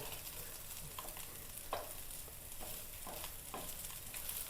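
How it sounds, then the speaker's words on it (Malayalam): Orange chromide fish fry in a pan with a steady, dense sizzle of hot oil, punctuated by several soft scraping stirs, close and continuous. "പള്ളത്തി വറുത്തത് റെഡിയായി"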